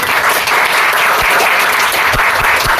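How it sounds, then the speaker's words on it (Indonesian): An audience at a youth political discussion in Magelang claps together in a dense, steady burst of applause, loud and close, with a few sharper hand claps standing out. "Yang semangat, tepuk tangan dulu."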